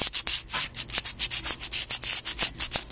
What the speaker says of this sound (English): You can either move the blade or you can move the sandpaper.